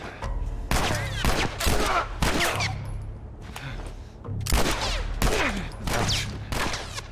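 Bursts of gunfire from The Last of Us Remastered, a combat scene with several loud volleys of rapid shots separated by short pauses and a low rumbling background.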